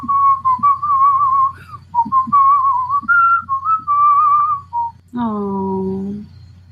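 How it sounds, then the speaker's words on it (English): A person whistles a tune alone, a clear wavering melody of short phrases up close, finishing with a long sliding note that falls in pitch. "Should I just whistle a song?"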